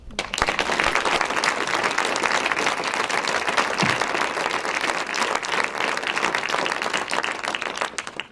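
A lecture audience applauds the speaker at the end of a conference talk, dense continuous clapping from a full room that holds steady for about eight seconds before fading.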